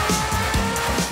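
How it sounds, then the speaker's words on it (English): An F1 car pulls away from the pits after a pit stop on new tires, its engine loud and close with rapidly shifting revving pitch throughout the short burst. "With the all clear, the car leaves the pits."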